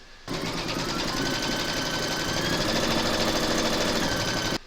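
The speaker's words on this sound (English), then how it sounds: "Pop your hoop into your machine and stitch round number 2" An embroidery machine stitches a watermelon coaster in its hoop, a loud, close, rapid mechanical whirring and clatter that starts abruptly, runs evenly for several seconds, then stops.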